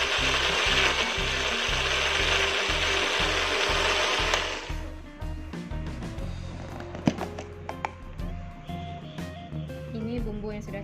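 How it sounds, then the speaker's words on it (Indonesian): A blender grinds spice paste with a little water loudly for several seconds, then stops, followed by clinking, tapping and shuffling sounds nearby. "Kemudian kita blend."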